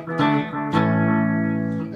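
Fender Parallel Universe Jazz Strat played through an MXR Carbon Copy analog delay: two plucked chords with sustained, echoing repeats trailing off, bright and clean.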